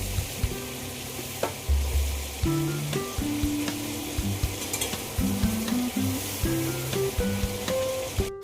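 A bay leaf, ginger and dried red chilli paste hit hot oil in a pan after prawns have been fried, giving a steady loud sizzle. Repeated stirring and scraping of the pan runs through it, and no one talks.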